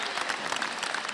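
Audience at a university convocation cheering and applauding, a dense steady wash of clapping with scattered whoops filling the whole moment, loud and continuous.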